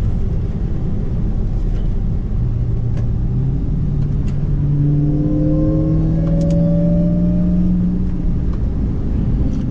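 A Dodge Hellcat's engine roars loudly and continuously during a high-speed rolling burnout at night, its pitch climbing as the revs rise, with no talk over it.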